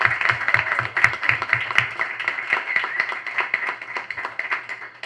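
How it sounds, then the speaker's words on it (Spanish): Clapping from an audience at a theology seminary panel, a fairly sparse, uneven patter of hands that holds steady for several seconds, with a low hum underneath. "Luis Rivera Pagán, para el cual pido que le demos un aplauso"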